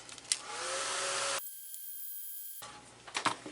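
A hair dryer blows on a freshly painted layer of artwork. Its steady whooshing hum runs for over a second, then stops, then starts again more faintly, close to the listener, with no talk.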